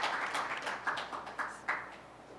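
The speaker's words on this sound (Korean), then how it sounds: "큰 박수로 감사합니다." An audience applauds a Swedish ambassador taking his seat as panel chair at the 2013 Global Conference on Cyberspace in Seoul. It is a steady, moderately loud patter of clapping in a conference hall, with a few sharper claps standing out.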